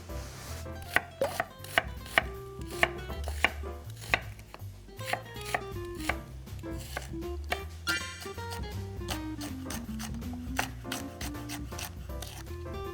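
Knife chopping trimmed wild chives (dallae) on a board into short lengths: a quick run of close, crisp taps that turns into a denser, softer rustle of cutting, with no one speaking.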